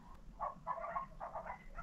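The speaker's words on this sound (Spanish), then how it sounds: "No sé si se escuchan los perros." Dogs bark nearby in a quick series of short yaps in irregular bursts, fairly faint against steady outdoor background noise.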